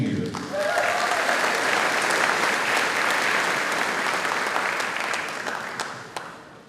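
School staff at a pep assembly give a steady round of dense applause that holds for several seconds and then fades, a voice briefly heard at the start.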